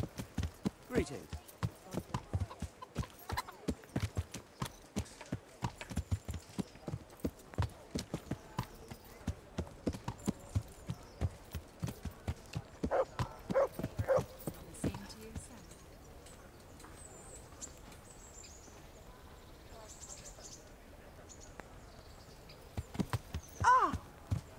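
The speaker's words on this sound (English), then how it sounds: "That horse of yours nearly trampled me to death." Horse hooves clip-clop in a steady walking rhythm in the video game Kingdom Come: Deliverance, close and clear for about fifteen seconds and then fading, with a few scattered steps near the end.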